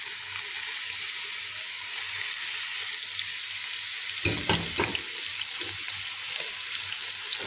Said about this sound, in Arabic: في نفس الزيت اللي حمرنا فيه اللوز هننزل بقى بصلايه مبشوره ناعم، معلقه توم مهروس، ومعلقه زنجبيل